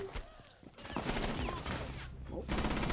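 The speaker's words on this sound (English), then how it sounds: "gunfire being exchanged" Gunfire exchanged during a Rainbow Six Siege esports match, dense bursts of shots blending into a continuous noisy clatter over three seconds, moderately loud.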